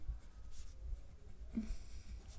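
A pen scratches across paper while a geometry proof is written out, giving faint, soft strokes in short bursts against a quiet room.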